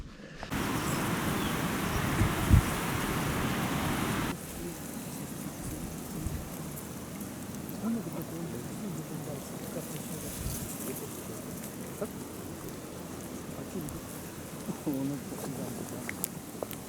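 Steady rain and wind hiss on a cold June day of fishing outdoors in Siberia, a continuous wash of noise that drops a little in level partway through, with a few faint knocks.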